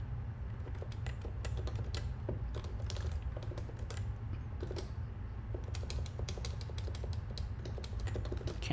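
Typing on a computer keyboard: a steady run of quick, close clicks with irregular rhythm and some heavier keystrokes over a constant low hum, with no speech.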